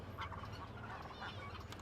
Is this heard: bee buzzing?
no